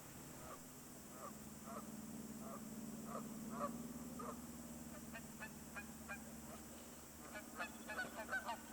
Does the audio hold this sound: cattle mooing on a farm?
no